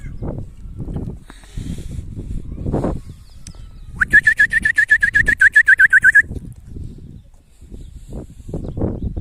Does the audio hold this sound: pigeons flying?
yes